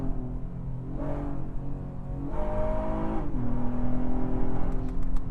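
A 2019 Acura TLX A-Spec sedan with a front-wheel-drive V6 accelerates in second gear, its steady engine note climbing in pitch through two rising pulls, growing louder in an interior setting with no talk.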